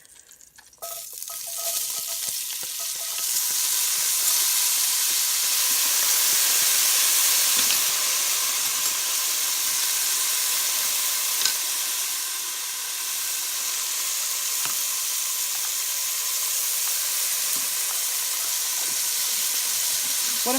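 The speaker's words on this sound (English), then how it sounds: "I'm going to go ahead and put a little bit more olive oil in there because I don't want my onions to burn." Onions frying in olive oil, a steady bright sizzle and hiss that rises after a brief quiet start and holds evenly, close and fairly soft, with no voices.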